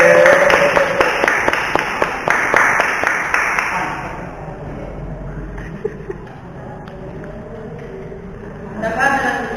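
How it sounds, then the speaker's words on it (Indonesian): Applause at a school debate in Indonesia: clapping for the opposing team fills the first four seconds with dense, rapid hand claps, then fades to quiet room noise with a brief rustle at the end. "kita berikan tepuk tangan kepada tim kontra"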